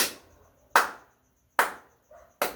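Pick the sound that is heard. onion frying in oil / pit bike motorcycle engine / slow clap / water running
slow clap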